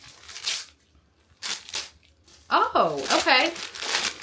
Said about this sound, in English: let's start unwrapping